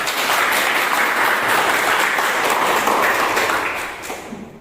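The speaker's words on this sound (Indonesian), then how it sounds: "Mari kita kasih aplaus." A classroom audience gives student presenters a burst of clapping, loud and close, holding steady for several seconds before tapering off at the end.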